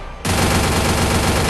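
Sustained automatic gunfire in a video game starts abruptly after a brief quiet moment and roars loud and continuous to the end, with no voices.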